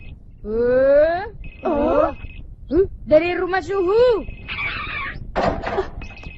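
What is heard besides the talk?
mobile phone ringing, cartoon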